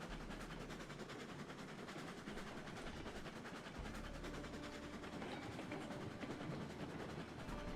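Train climbing a 3% grade in a train simulator game, a steady low rumble of rolling wheels and engine with a faint rhythmic clatter, continuous and even throughout.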